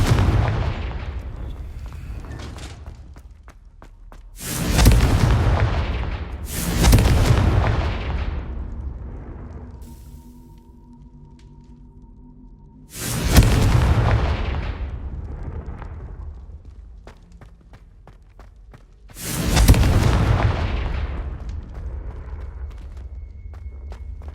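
Confringo fire spells exploding in Hogwarts Legacy, four heavy booming blasts spaced several seconds apart, each with a long rumbling decay, plus a faint steady tone between two of them and no talk.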